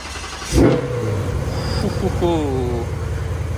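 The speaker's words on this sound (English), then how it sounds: "So let's fire her up real quick." A Ford Mustang's engine cranks with a sharp burst and catches, then settles into a steady idle hum, close by, with no one speaking.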